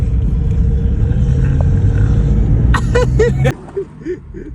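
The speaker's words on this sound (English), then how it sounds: "We are driving behind the car that matters, the one that makes brrr." A BMW M2 car engine rumbles steadily at close range, a deep continuous drone that suddenly cuts off, leaving a few short voice-like sounds.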